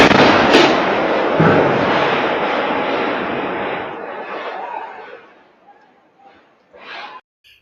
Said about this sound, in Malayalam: സ്ഫോടനം പരിസര പ്രദേശത്തുൾപ്പെടെ പ്രകമ്പനം സൃഷ്ടിക്കുന്ന സി സി ടി വി ദൃശ്യങ്ങൾ പുറത്തു വന്നിട്ടുണ്ട്